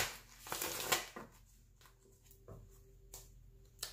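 Soft, quiet tarot card shuffling: a brief riffle burst followed by a few scattered light taps and slides, with no voices.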